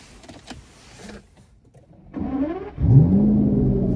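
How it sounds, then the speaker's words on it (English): A car's startup sequence: a short electric whir of systems priming comes first, then a louder, rising mechanical hum as the engine turns over and settles into a steady run. No one talks. "Oh, I love the startup noise. Like the alternator, like startup just before the engine turns on."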